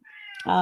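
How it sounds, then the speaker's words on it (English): A cat meows once in the background of an indoor room, a short rising call that ends in a louder, fuller cry right at the close, with a woman's speech nearby. "I don't know if y'all could hear the meowing in the background."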